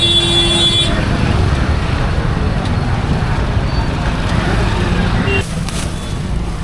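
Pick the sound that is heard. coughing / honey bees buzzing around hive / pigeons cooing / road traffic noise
road traffic noise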